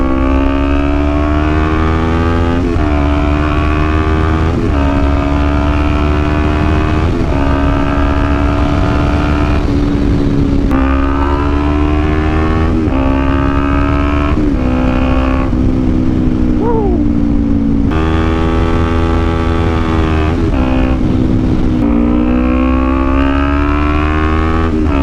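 A Kawasaki Ninja 400 engine braking on the move, its loud steady drone falling in pitch through repeated downshifts, each step followed by a rise and slow decay, with wind rush throughout.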